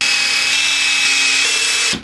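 A power drill bores holes in a wooden table-saw sled, a steady high whine holding loud and unbroken before winding down at the end.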